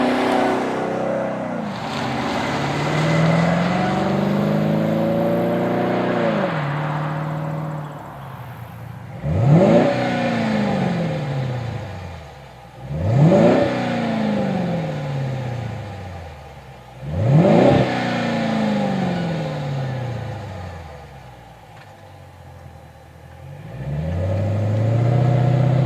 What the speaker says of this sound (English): it will typically produce a deep performance tone on the outside with a mild to moderate interior sound level